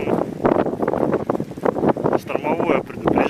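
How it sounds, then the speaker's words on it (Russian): Strong wind blows outdoors in Murmansk during a storm warning with wet snow and rain, a constant rough roar buffeting the microphone beneath a person talking throughout. "штормовое предупреждение, усиление ветра."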